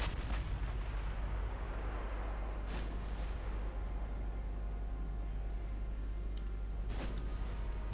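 Heavy naval guns firing in the warship game Ultimate Admiral Dreadnoughts, a constant low rumble broken by sharp distant booms near three and seven seconds, with no voices.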